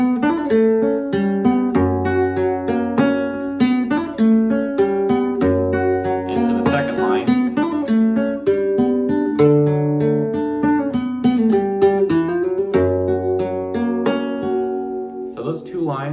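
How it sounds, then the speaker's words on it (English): A solo flamenco guitar plays a rapid, intricate soleá falseta, with crisp plucked notes and deep bass tones, close and clear, with no voices. "which is the first longer falsetta of this piece, which sounds like this."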